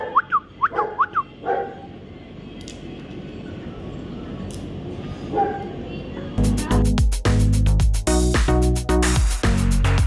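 Street dogs being fed biscuits on a roadside, with brief yips and whimpers early on, quieter ambient stretches, then louder dense barking and commotion near the end; some talk is present.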